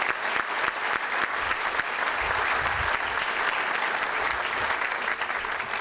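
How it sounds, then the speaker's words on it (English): A room full of people applauds the BP team at an event for the company's Integrated Production Technologies building, a dense, steady wash of clapping that carries on for several seconds at full strength. "Let's give John and the entire BP team a great round of applause."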